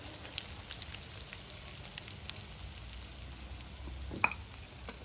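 Tandoori chicken bread rolls shallow frying in a pan over low heat, a soft steady sizzle with light crackles and an occasional clink, close and fairly quiet.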